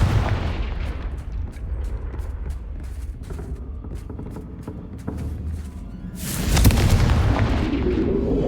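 A Confringo fire spell blasts in the video game Hogwarts Legacy during a haunted Hogsmeade quest, a loud booming explosion bursting out near the end after a stretch of low rumbling ambience.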